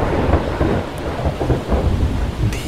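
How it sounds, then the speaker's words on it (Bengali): A thunderstorm with rain is used as a sound effect in a radio drama. Rain hisses steadily under a deep, continuous rolling rumble of thunder, dense and fairly loud, with no voices. "মেঘের গর্জন থেমে গেছে,"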